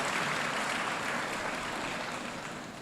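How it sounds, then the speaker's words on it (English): Audience clapping at a secondary school's 25th anniversary celebration, a dense, steady wash of many hands that holds for about three seconds and thins slightly toward the end, with no talk over it. "let's give her a wonderful round of applause"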